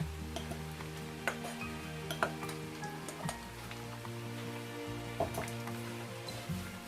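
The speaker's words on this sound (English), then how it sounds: "So I'm just going to add the onions." Onions cook in a pan with a steady low sizzle, while scattered clinks and stirring taps land over it and a faint background hum runs throughout.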